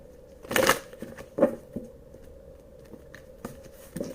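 Tarot cards are shuffled in a few quick riffling bursts, separated by pauses with faint handling noises.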